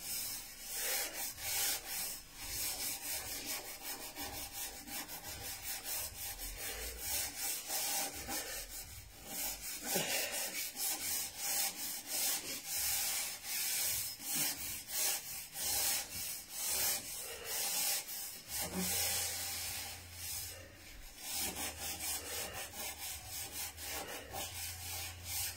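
A metal table has its rust scraped off with continuous, close, gritty rubbing strokes that keep a steady rhythm and run unbroken throughout.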